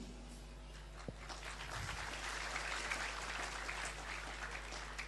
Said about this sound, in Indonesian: jangan tepuk tangan, men